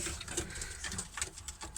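Soft pigeon cooing mixed with light patter and fluttering close by in a coop at morning opening, fairly quiet and continuous.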